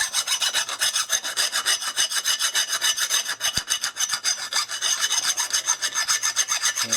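A file works a burr on the eye of a Hults Bruk axe head in quick, even back-and-forth rasping strokes. The filing is close and loud and continues steadily for several seconds without talking.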